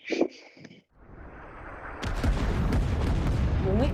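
Gunfire in the Vietnam War shooter Rising Storm 2: Vietnam, a sustained close burst of loud rifle shots layered over battlefield noise that follows a brief quieter opening.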